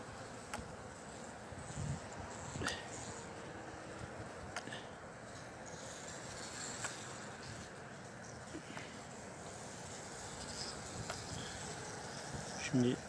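Honey bees hum faintly and steadily inside a ten-frame hive moved into an eleven-frame box, treated with formic acid against varroa mites in a mild, rainy climate. The low, continuous buzz has a few small knocks over it.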